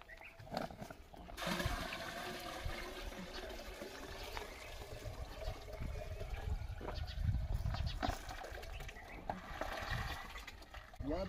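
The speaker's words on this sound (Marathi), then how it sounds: "या 200 लिटरच्या ड्रम मध्ये हे मिश्रण टाकून घ्यायचं" A liquid cow-dung compost mixture is poured into a 200-litre drum already holding about 100 litres of water, producing a steady, close, rushing splash that begins after a brief pause and continues unbroken to the end.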